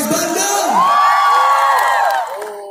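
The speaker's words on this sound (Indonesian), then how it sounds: "Tepuk tangan dong untuk YouTube Fan Fest Showcase Bandung." Audience at a YouTube Fan Fest Showcase in Bandung cheering and whooping, a loud dense crowd roar with high shouts that swells and then fades near the end.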